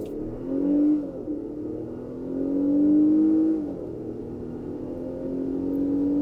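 2024 Nissan Pathfinder with a 3.5-liter V6 accelerating from a stop to 60, engine droning and rising in pitch through a couple of gear shifts, steady and close from inside the cabin.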